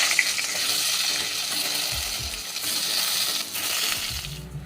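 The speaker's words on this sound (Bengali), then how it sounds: "এবার আমি এই পটলগুলো ভেজে নেব।" Pointed gourd (potol) pieces frying in hot oil in a pan, a steady loud sizzle with crackling bursts throughout, no talking.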